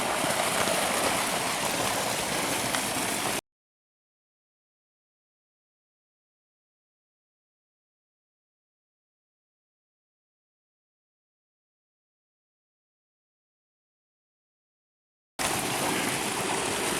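Water rushing steadily through a flume on an irrigation ditch in Nambe, a continuous close, loud flow that cuts out to silence for about twelve seconds before returning.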